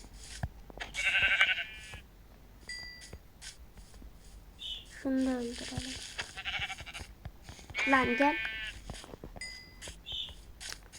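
Minecraft sheep bleat a few times in wavering calls, with someone talking briefly and soft clicking and shuffling in between.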